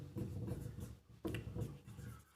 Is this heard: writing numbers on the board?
yes